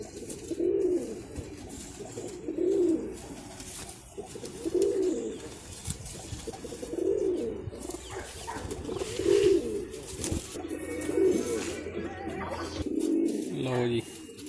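Pigeons kept by a fancier coo in a slow repeating pattern, about seven rounded coos spaced roughly two seconds apart, close and clear, while someone talks intermittently over them.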